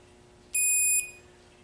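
A single clear electronic beep from a torque wrench clicking over at its 10 foot-pound setting while tightening a Hayabusa transmission, lasting about half a second, loud and close over a quiet room hum.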